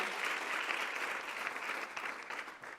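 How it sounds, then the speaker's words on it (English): Sustained audience applause as a trade panel departs the stage, dense and even clapping from a sizable crowd, fairly quiet and continuous with no speech over it. "So a final round of applause as they depart."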